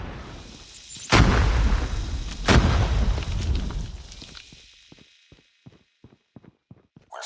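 Two heavy, booming blasts from a grenade in Call of Duty: Mobile multiplayer ring out about a second apart over continuous battle noise, followed by a string of sharp, separate gunshots as the din fades.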